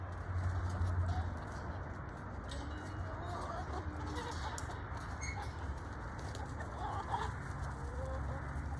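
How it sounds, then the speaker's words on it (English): Backyard chickens cluck and murmur softly just after being let out in a garden, quiet, scattered calls over a steady background hum. "first I have to let the chickens out for the day."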